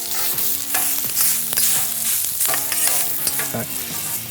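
Sausage and potatoes fry on a griddle with a steady, close sizzle, broken by repeated scrapes and clinks of a spatula stirring and flipping the food.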